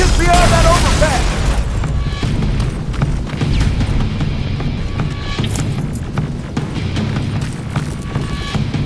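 A rocket blast booms in the Terminator: Resistance game, a loud burst with a rumbling tail under ongoing gunfire and battle noise, while voices shout over it.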